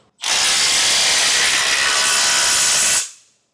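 A power tool drives down base plate hardware on a 2025 Jeep Wrangler during a Demco tabless base plate install, giving one loud, close, high-pitched whirring burst of about three seconds that stops abruptly and then fades.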